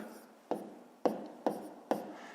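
A pen scratches numbers onto paper during a fifth-grade maths exercise, four short, distinct strokes, close and clear, evenly spaced over quiet.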